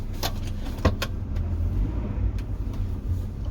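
An Acura Integra drives along with a steady low engine and road rumble from inside the cabin, broken by a few light rattles and taps.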